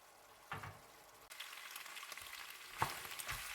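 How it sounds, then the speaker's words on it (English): Macaroni being stirred into sauce in a pan gives a soft, close sizzle with a few wet scrapes and stirring sounds, quiet and without talk. "And give it a good stir."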